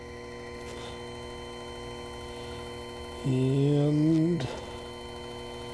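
A Proxxon FF230 mini mill spins a high-speed steel countersink at slow speed, a steady tonal whine rising for about a second over constant mains hum, then cutting off.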